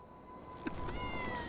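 A single short cat meow from the Grand Theft Auto Online video game, faint and brief, set against a quiet steady game background hum.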